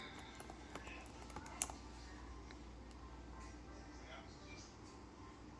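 Typing on a computer keyboard produces light, quick clicking taps in an irregular run, quiet and close, with one sharper click partway through.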